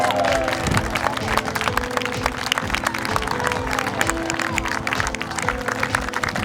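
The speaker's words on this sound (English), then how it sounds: "Big round of applause for Shorty" A crowd at an airshow applauds a parachute team's jump master, with a steady patter of claps from spectators at a distance over outdoor background noise.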